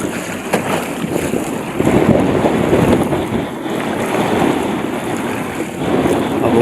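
Sea waves wash around a boat on open water while strong wind buffets the microphone, making a rushing, surging roar that swells and eases without pause.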